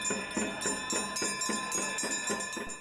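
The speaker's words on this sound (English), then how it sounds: "The bells have just started going off." Temple bells ring for the evening Ganga Aarti ceremony on the Ganges, struck in a steady repeating rhythm of about three strikes per second with sustained metallic ringing between them.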